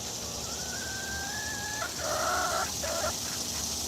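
A backyard rooster clucks and calls in a garden, a long drawn tone followed by several short bursts, fairly close against steady outdoor hiss.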